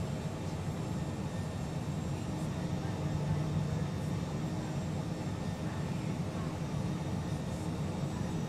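A steady, even engine drone from a Cessna Citation Mustang business jet on a mountain landing approach in Microsoft Flight Simulator 2020, a constant broadband hum with no breaks.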